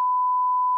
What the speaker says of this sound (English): We'll get that beeped out as well.